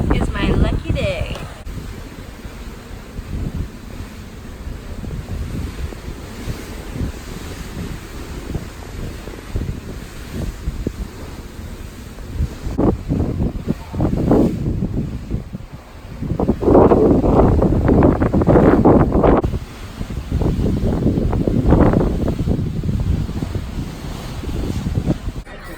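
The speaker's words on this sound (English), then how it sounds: "Don't know if you can hear anything because it's super windy" Strong wind buffets the microphone on the deck of the Mariner of the Seas cruise ship, a loud continuous roar that swells in gusts, with someone talking through it.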